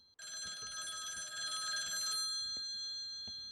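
A telephone bell rings with a bright, continuous metallic trill for about two seconds, then stops, leaving faint background knocks and room noise.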